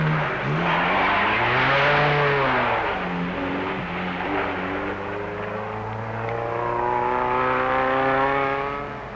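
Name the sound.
rally cars driving on rough roads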